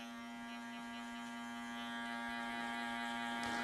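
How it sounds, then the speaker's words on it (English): An electric hair clipper buzzes close and steady while cutting a guideline during a low taper fade on natural wavy hair, a faint constant hum with a brief scrape near the end. "right now I'm just going to make the guideline with the clipper"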